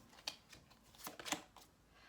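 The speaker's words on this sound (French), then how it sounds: "Allez, on va prendre une carte pour terminer." Tarot cards being shuffled and drawn, a few faint, quick papery flicks and riffles spaced irregularly over a quiet background, with no talk.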